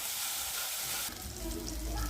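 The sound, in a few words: tomato puree with spices sizzling in a pan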